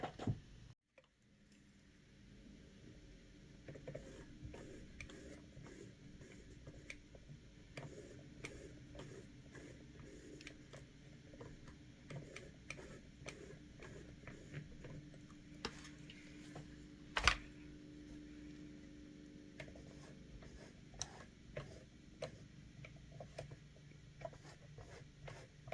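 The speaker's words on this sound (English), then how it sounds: "I'm going to draw these lines going around here" A pencil drawing lines around a pysanky egg, with faint scratchy strokes and light ticking taps repeating through a quiet room, close and soft.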